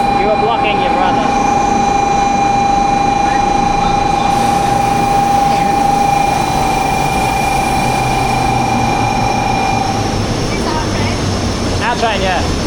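Train in Japan heard from inside, a steady rumbling ride with a sustained high whine that fades out partway, while people talk over it.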